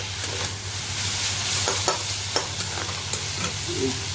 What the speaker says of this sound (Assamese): এইফালে ঢেকীয়া শাক ভাজিম